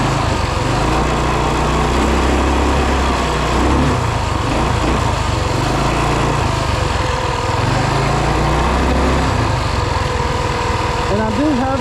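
A 2WD Rokon motorbike with a 223cc Wildcat engine rides along at a loud, steady buzz, its engine note sustained and close throughout with only slight shifts in pitch.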